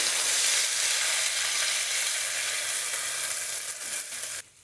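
Onion paste and ginger-garlic paste fry over lightly browned onions in a pan for potato curry, giving a steady, dense, loud sizzle that holds evenly and then cuts down sharply near the end.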